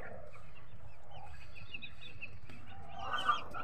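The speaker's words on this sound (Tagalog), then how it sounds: "Ito naman yung isa kong brooder. Ayan. So, masisigla naman yung mga sisiw." Young chicks around 45 days old cheep in a brooder, a faint chorus of soft peeping over a low background hum, with a slightly louder chirp near the end.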